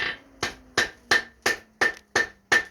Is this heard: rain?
no